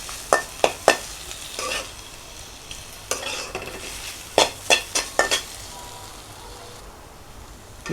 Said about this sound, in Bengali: কয়েকটা কিশমিশ আর হচ্ছে খেজুর দিয়ে দিব, দিয়ে একটু আরেকটু ভেজে নিয়ে নামিয়ে নেব